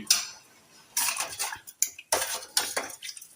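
A spoon adds homemade sambar powder into brinjal and radish sambar, clinking and scraping against the vessel in several short bursts, close and clear with nothing else behind it.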